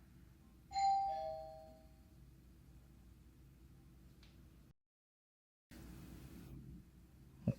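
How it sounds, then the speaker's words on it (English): A household doorbell gives a single ding-dong chime over faint room hiss, followed by quiet background with a brief dropout. "There's somebody at the doorbell, so I have to step away just for 1 second."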